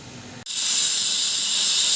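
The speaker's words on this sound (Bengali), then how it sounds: "তিনটে হুইসেল বেজে গেল" A loud, steady hissing jet of steam bursts on suddenly and holds continuously, a pressure cooker whistling while cooking elephant foot yam.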